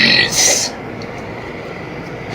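A single burp bursts out briefly and loudly up close, then fades into quiet room noise.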